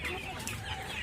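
Layer hens clucking inside a coop housing around 200 birds, a close, busy murmur of overlapping clucks and calls.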